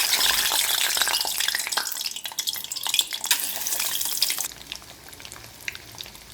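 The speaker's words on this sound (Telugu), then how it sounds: "ఇప్పుడు మనం ఉడికించి పొట్టు తీసి కట్ చేసుకున్న ఎగ్స్ ఆయిల్లో షాలో ఫ్రై" Halved boiled eggs shallow-fry in oil for an egg curry, a loud, crackling, bubbling sizzle that fades to a softer hiss in the last couple of seconds, with no voices.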